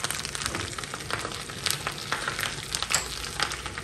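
Hot oil crackles and sizzles in a pan while a lentil soup is being made, giving a continuous close hiss broken by frequent sharp pops.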